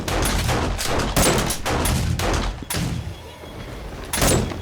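Rapid gunfire bursts go off right beside the player in the video game 7 Days to Die, loud and close, in repeated volleys with a short lull before a final burst.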